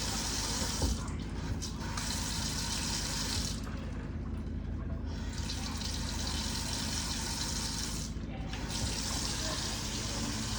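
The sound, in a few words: water running from newly installed kitchen sink faucet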